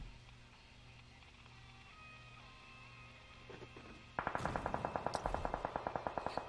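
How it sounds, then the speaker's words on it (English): Gunfire in a video game: after a few seconds of quiet ambient hum, a rapid, evenly spaced burst of shots starts up and keeps going to the end, fairly loud against the background. "Here's shots in the distance."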